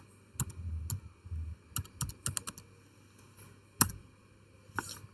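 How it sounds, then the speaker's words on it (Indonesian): Keys clack on a computer keyboard as an IP address is entered, scattered individual taps and short quick runs, close and crisp against a quiet background. "di sini kita ketikkan IP address."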